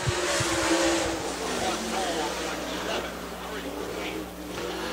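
A super late model race car qualifies at Dixie Speedway, its engine roaring steadily through the lap, loud and sustained, while an announcer talks over it throughout.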